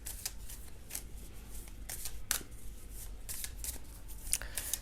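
Tarot cards being shuffled and drawn, giving repeated crisp riffling bursts and soft slaps of card against card, close and fairly quiet with no talking.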